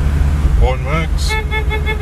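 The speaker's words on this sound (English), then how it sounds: "Horn works." A 1961 Hillman Minx 111B station wagon's horn toots in short, harmonic bursts over a steady low road rumble, fairly close.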